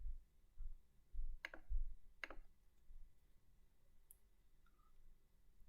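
Two sharp, close mouse clicks a moment apart, like a double-click on a desktop icon to open a terminal window, standing out against a faint steady background hum.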